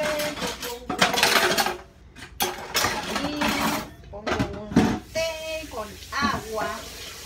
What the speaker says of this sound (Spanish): Voy a lavar estos trastes porque me desesperan.